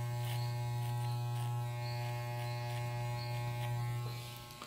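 Electric hair clipper used on a fade haircut, humming loud and close in one continuous buzz, easing slightly quieter at the very end, with no talking.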